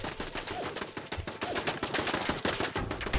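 Turret gunfire in Fallout 4 at Fort Hagen, a fast rattling stream of sharp shots, loud and close, continuing with brief dips throughout.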